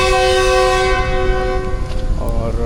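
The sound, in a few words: passenger trains departing Rahim Yar Khan station, horn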